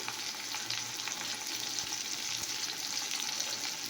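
Spices go into food frying in a pan, setting off a steady, close sizzle with faint stirring scrapes and no talk.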